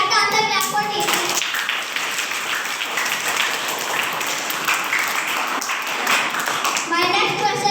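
A classroom group at a quiz competition claps together for a correct answer, a dense sustained round of applause from many hands, with voices speaking briefly at the start and end.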